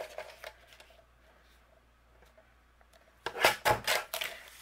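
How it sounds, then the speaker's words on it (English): Card stock for a handmade card being trimmed on a paper trimmer: faint quiet rustles at first, then a burst of close, crisp slicing and scraping strokes near the end. "I'm going to trim off a quarter inch."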